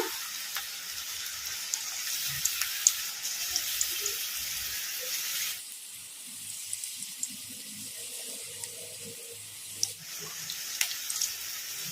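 Onion Manchurian batter frying in oil on low to medium flame gives a soft, continuous sizzle and crackle, with a few faint clicks and a brief change in tone midway.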